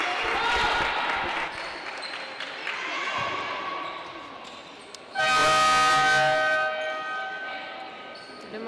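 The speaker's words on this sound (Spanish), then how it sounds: "Tenemos cambio. La bocina," A loud, sustained substitution horn blares midway through a women's Superliga 2 volleyball match between CV Oviedo and CV Torrejón, over arena noise and a commentator talking.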